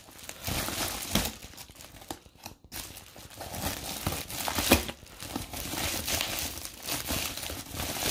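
Insulated packaging on a delivered parcel of large snails is torn open by hand: continuous close crinkling and crumpling of stiff material, with sharper ripping bursts and a brief pause partway through.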